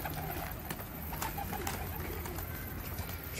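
A runaway black-winged postacı pigeon coos in low, repeated murmurs against a busy, hissy outdoor background, with a few sharp clicks scattered through.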